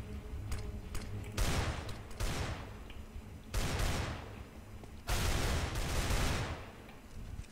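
Desert Eagle pistol fire in the video game CS:GO rings out in several loud clustered bursts of sharp shots separated by short pauses, with no talking over them.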